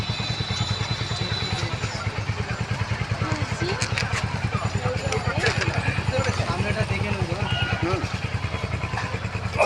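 A motorcycle carrying riders home from shopping, its engine putting out a steady, rapid pulsing rumble close by throughout, with people talking and road clatter over it.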